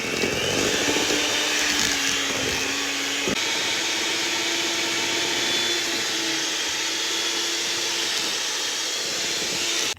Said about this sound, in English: I added all the eggs, but what you want to do is scrape down the sides and keep mixing a little longer.